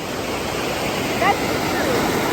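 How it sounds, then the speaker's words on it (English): A large flow of water gushes out of a newly built pond in a continuous, loud rushing roar like a small waterfall, with a faint voice briefly audible over it. "That's a lot of water coming out, man."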